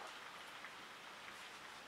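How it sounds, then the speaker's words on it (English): Steady rain falls outside in the Netherlands, a dense, even hiss of drops on surfaces that fills the whole stretch at moderate distance, with no talking. "Is that rain? It's raining again."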